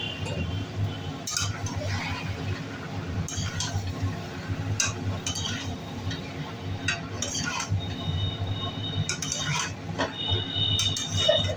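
Potatoes, pointed gourd and prawns stir-fried together in a pan, with steady low frying noise and frequent clinks and scrapes of a spatula against the pan throughout.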